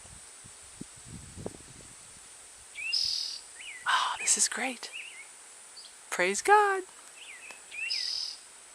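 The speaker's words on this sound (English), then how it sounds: "Listen to those birds" Several birds chirp and sing in bursts nearby, with a person speaking briefly between the calls.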